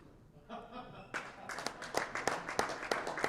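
Squash player Robbie Temple applauds his opponent Thierry Lincou's shot during a squash match, with a string of distinct, evenly spaced hand claps close by after a quiet start and faint crowd murmur and chuckles underneath.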